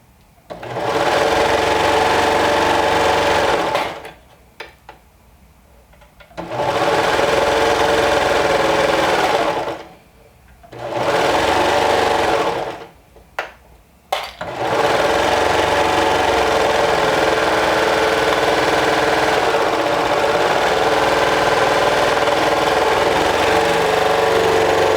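A serger stitches a cardigan neckband in loud, steady motor runs of a few seconds each, stopping and restarting four times with short quiet pauses between bursts.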